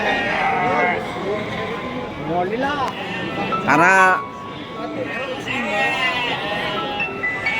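Sheep bleat repeatedly at the Wage livestock market in Bumiayu. The wavering cries are loud and close and overlap one another while people talk nearby.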